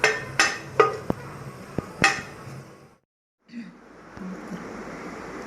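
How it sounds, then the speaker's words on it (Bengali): Dried red chilies fry with bitter gourd in a pan, sharp utensil clacks against metal sounding several times over a low steady sizzle, then a brief silence before the quiet frying resumes. "ভাজিটার সাথে আমি শুকনো মরিচটা ভেজে নিচ্ছি"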